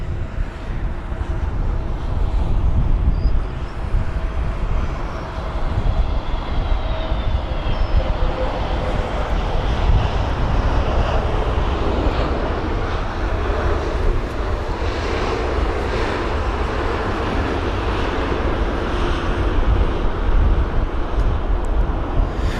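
Iberia Airbus A320neo on approach to runway 27 right in strong wind, a sustained jet engine roar mixed with gusty wind buffeting on the microphone, steady and fairly loud throughout.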